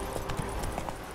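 A horse ridden in the video game The Witcher 3 clip-clops along with quick, evenly spaced hoofbeats, moderately near and fairly faint, with no talk over it.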